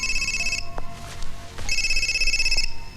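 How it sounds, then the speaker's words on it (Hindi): A telephone ringing with an electronic ringtone, two loud bursts of ringing separated by a short pause, with some background noise between. "माँ का फोन है।"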